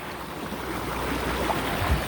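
Fresh stream water flowing near a waterfall, a steady broadband rush that holds at an even, fairly loud level for the whole stretch, with no voices over it.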